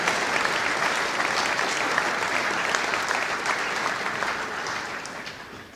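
An audience at a diplomacy and defence attaché event claps steadily, a dense, sustained round of applause that holds close and full before gradually tapering off toward the end.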